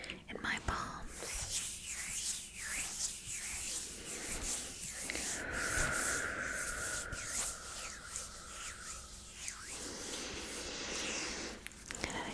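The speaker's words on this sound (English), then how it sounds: "And I'm just going to rub that together in my palms." Oiled palms rub together in slow, soft swishing strokes, close and intimate, with a quiet whispering voice carrying through over the steady friction.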